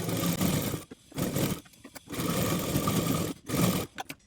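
A sewing machine stitches a blouse sleeve in several close, loud bursts of rapid mechanical whirring, separated by short pauses.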